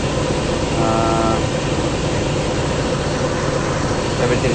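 A 2004 Nissan Frontier engine idles after a thermostat replacement, a steady, loud drone with a faint brief tonal whine near the start.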